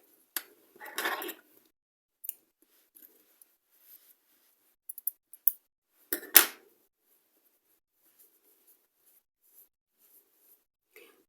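Sharp scissors snip through crochet yarn, giving a few quiet clicks and a louder crisp cut near the middle, with light rustling of the yarn and work in between and silence toward the end.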